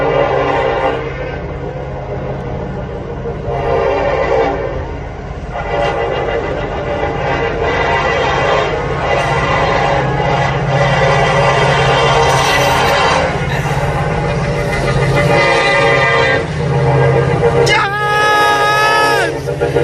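Norfolk Southern freight train 203 rumbles past steadily with dense rail noise and crowd chatter, and a rising, wavering horn blast sounds near the end.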